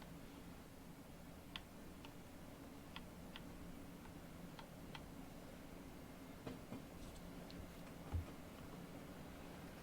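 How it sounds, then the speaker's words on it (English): Faint, irregular clicks of Class 700 train wheels passing over track joints in Train Sim World 3, scattered over a steady low rumbling drone. "you can actually hear the track joint sounds"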